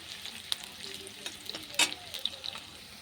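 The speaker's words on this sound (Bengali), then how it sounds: "পেঁয়াজ নাড়াচাড়া দিয়ে দিচ্ছি।" Onions sizzling in hot oil in a pan for a yogurt chicken curry, with a soft spoon stirring and scraping in short strokes; quiet and close.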